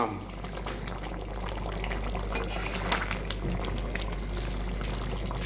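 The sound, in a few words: fish curry gravy with mango boiling in a pan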